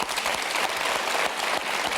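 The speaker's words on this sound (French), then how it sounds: "On vous applaudit en attendant, tiens." A TV studio audience applauds, a close, continuous burst of many hands clapping that fills the short stretch without pause.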